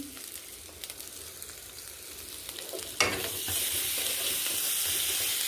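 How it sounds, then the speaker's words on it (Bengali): A spice mixture with salt and a little water is sautéed in a pan for chicken kasha. Quiet scraping and stirring give way halfway through to a loud, steady sizzling hiss close up. "ভালো করে একটু কষে নেব"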